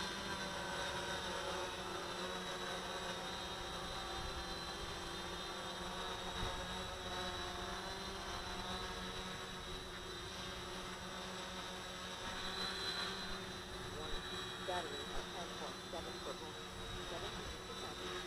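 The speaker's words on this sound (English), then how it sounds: "There's a lot of wind." Steady, loud wind buffeting on a Mobius camera mounted on a drone in flight, a continuous broadband roar mixed with motor whine that runs the whole time without a break.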